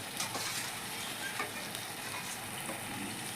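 Soaked paneer pieces lifted from hot water drop into sizzling masala in a pan, giving a loud, steady hiss of frying oil throughout.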